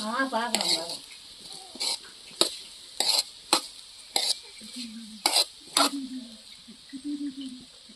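Rice flour puttu being stirred with a spoon in a pot after sweetener is added, a series of sharp scraping strokes in an irregular rhythm, close and clear, with brief faint voice sounds between strokes.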